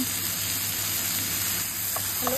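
A pan of adobo with string beans sizzles steadily as it is stirred, a dense continuous frying hiss close by with a few faint scraping touches near the end.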